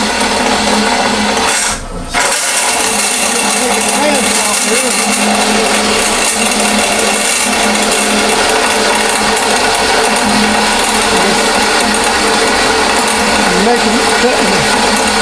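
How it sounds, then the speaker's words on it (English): A power tool cuts through a half-inch bolt in a machinist's shop, a loud continuous grinding whir that runs steadily for the whole stretch with one brief dropout near the start. "Cutting all this half-inch bolt like that."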